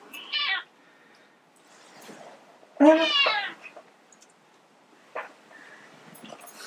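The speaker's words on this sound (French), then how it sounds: "Voilà le coupable des miaou." Cat meowing indoors in short separate calls, a brief meow, a louder drawn-out one, then a faint short one, with quiet room sound between.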